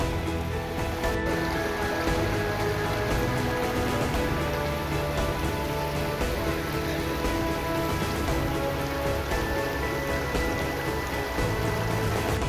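Monsoon streams of water tumble down from a mountain top along a forest trail between Than Jagir and Dhirnodhar, making a steady, close, continuous rushing and babbling with no voices.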